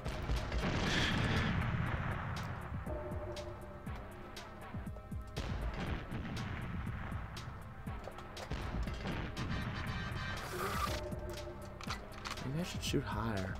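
Multiplayer gunfire in GoldenEye 007 on the N64, with repeated sharp shots and bursts scattered across the stretch alongside game sound effects, as players talk and react over the action.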